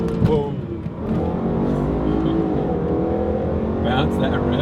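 A 605-horsepower car engine is held hard against its rev limiter, giving a loud, sustained, buzzing roar that stays near and steady for several seconds.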